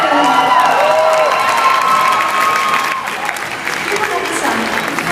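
Audience at a German hairdressing award ceremony cheering, whooping and clapping, a dense loud crowd roar with shouts mixed in, steady throughout.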